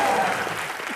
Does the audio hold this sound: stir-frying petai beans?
no